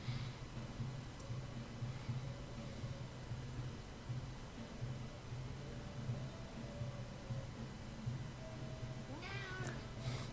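A faint cat meow near the end, rising then falling, over a steady low hum and hiss; no talking.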